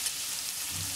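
Garlic hissing in hot oil, a steady broadband sizzle with a faint low rumble late on, no voices, while arum leaves are cooked with mustard and prawn.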